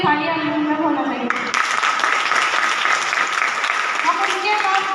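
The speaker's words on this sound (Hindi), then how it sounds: "हम उनके लिए तालियां होना चाहिए" An audience bursts into loud, dense applause at a small community gathering honouring a beauty parlour mentor, the clapping swelling in after a short stretch of talk and continuing steadily close by to the end.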